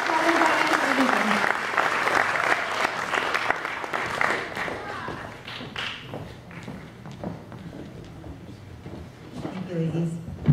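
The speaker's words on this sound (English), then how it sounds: "So please give them a loud round of applause." Loud applause from a graduation celebration crowd, steady and sustained through most of the stretch, gradually easing off with voices and movement mixed in near the end.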